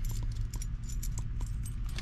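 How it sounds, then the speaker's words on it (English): Car keys for a 1976 Ford Mustang II jingle as they are pulled from a pocket, a close, light metallic rattle with several small clinks over a low background hum. "Grab the keys out of my pocket."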